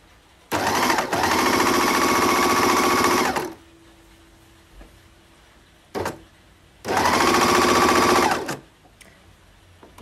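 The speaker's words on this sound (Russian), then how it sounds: "Для тех, кто никогда не видел, что такое оверлок, вот это он." An overlock serger finishes the raw edge of a dress seam in two loud, steady bursts of rapid stitching, each a few seconds long, with a short quiet pause between them and no talking.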